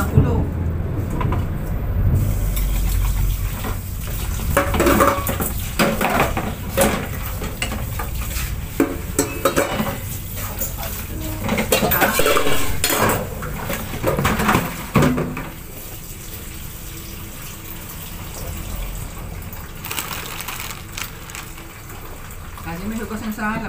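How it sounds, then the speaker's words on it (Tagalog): Dishes being washed in a kitchen sink under a running tap, with repeated clinks and clatters of plates and cutlery over flowing water, while people talk nearby. "Kasi may hugasan sa lababo eh."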